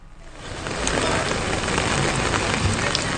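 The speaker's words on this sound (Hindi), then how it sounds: "भारी बारिश हो रही है" Heavy monsoon rain pours down in Dholpur, Rajasthan, a loud, dense and steady hiss of drops drumming on surfaces close by, with no voices over it.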